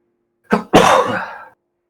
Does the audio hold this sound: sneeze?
yes